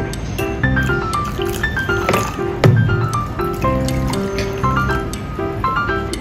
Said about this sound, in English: Soak dried shredded squid with warm water.